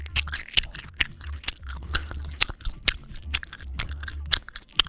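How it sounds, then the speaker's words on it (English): Close, wet chewing of gum with repeated smacks, clicks and soft crunchy mouth sounds in an irregular rhythm, loud and intimate with no talking. "When I chew my gum, do you get tingles?"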